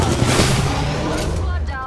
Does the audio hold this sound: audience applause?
no